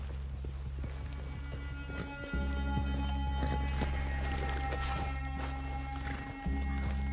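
Horses walk with soft, rhythmic clip-clop hoofbeats over a low steady hum in the video game Red Dead Redemption 2, moderately close with no talking.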